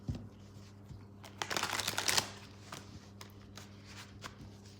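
Tarot cards are shuffled in one dense, rustling burst lasting about a second, followed by a few faint taps and card flicks in a quiet room.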